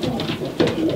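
Racing pigeons in a breeder's loft coo softly, a few low rolling calls overlapping one another, close by, with a slightly louder coo near the end.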